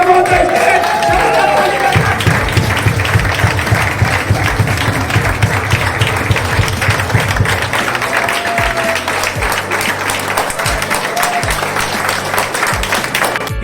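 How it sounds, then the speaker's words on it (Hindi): A gathered audience at an indoor event applauds and cheers loudly, dense steady clapping with rhythmic unison claps early on and shouts mixed in throughout, close and sustained for over ten seconds. "आप सभी साथियों के जबरदस्त ताली के बीच में"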